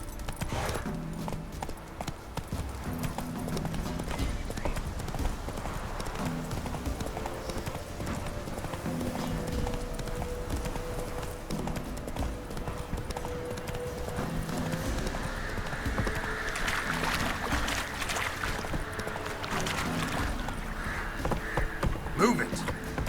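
Horse hooves gallop in a continuous, rhythmic clip-clop in The Witcher 3, close and steady, with occasional neighs and background voices speaking.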